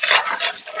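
Eggs being beaten one at a time into a panettone-style Pan de Pascua batter: a steady, close scraping and sloshing of utensil against bowl with no pause, fairly loud and alone.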